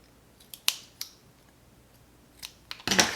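Scissors snipping a small paper piece for a Dollar Tree gingerbread house craft, a few crisp close cuts separated by short pauses, ending in a quick cluster of snips.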